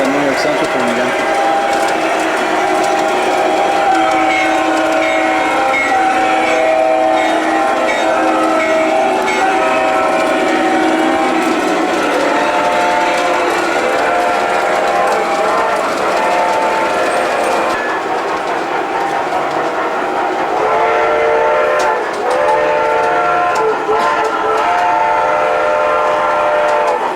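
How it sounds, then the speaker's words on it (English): A train rumbles loudly past close by, its horn blowing long sustained blasts over the steady roll of the wheels for the whole stretch. "That train again."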